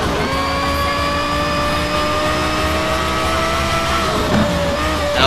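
A Porsche Carrera GT race car engine screams at high revs in the Need for Speed Shift racing game, holding a steady, rising whine with a brief tire squeal near the end, loud and close, without speech.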